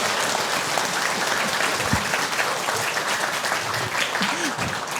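An audience claps in a sustained, dense burst of applause to welcome a Buddhist monk giving a lecture on Buddhist education, steady and fairly loud throughout with no talking over it.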